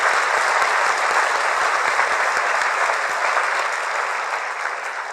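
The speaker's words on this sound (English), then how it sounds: "Please join me in a round of applause to recognize our graduates and guests together." A large graduation ceremony audience applauds graduates and guests at a convocation, loud dense clapping that holds steady and tapers slightly toward the end.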